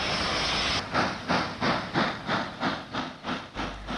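Romanian steam locomotive number 230142 chuffs rhythmically, about eight evenly spaced hissing exhaust beats after a steady rush of steam, loud and nearby.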